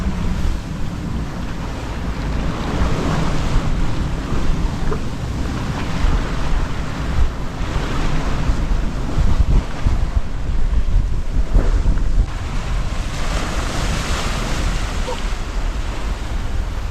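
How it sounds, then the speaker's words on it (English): Gusty wind roars across the microphone while a sailboat runs under spinnaker, with waves and surf washing steadily around the hull for the whole stretch. "Getting pretty gusty now."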